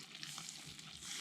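Razorfish and garlic frying in oil in a pan at a campsite, a soft steady sizzle with faint crackles throughout, no voices.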